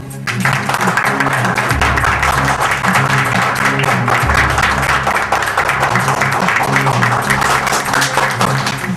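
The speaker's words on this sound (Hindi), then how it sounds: "आप सबके लिए एक बार जोरदार तालियां" Loud, sustained audience applause fills the whole stretch at a steady level, dense and continuous, with music or tonal sound running underneath.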